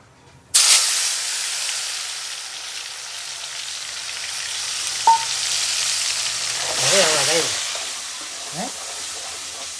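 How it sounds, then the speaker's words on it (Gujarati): Tomatoes dropped into hot oil tempered with whole cumin for karela shaak, a sudden loud sizzle that stays steady with a clink and short bits of voice partway through. "આખું જીરું વઘાણું હવે નાખી દઈશું ટમેટા"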